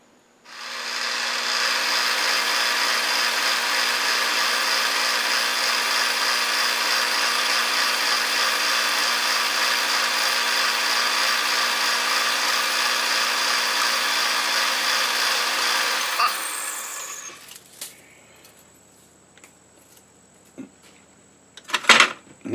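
A metal lathe turns steel stock with reground high-speed steel cutting tools, a steady loud whirring hum for about fifteen seconds that then winds down into quieter clicks and scattered workshop knocks.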